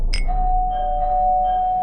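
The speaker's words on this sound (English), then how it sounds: "the doorbell rang again" A single electronic doorbell chime rings out clearly, its sustained tone lingering and fading over a quiet room, with no voices.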